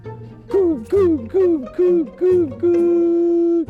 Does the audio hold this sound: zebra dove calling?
yes